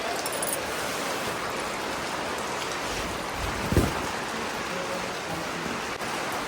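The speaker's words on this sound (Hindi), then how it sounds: "बारिश झमाझम हो रही है, कपड़े सब भीग रहे हैं।" Steady, dense hiss of heavy rain pouring down continuously on a village, with a brief louder thump partway through.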